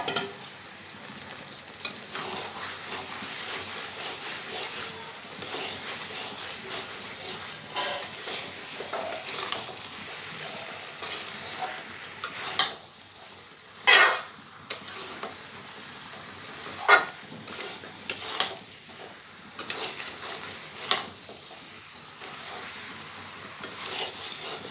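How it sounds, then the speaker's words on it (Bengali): Masala sizzles and fries in a pan for an unripe jackfruit curry while a spoon stirs it. The low frying hiss is broken by scraping and several sharp clinks of utensil against pan, with no talk. "আর নাড়াচাড়া করে মশলাটাকে আরেকটু কষিয়ে নিব।"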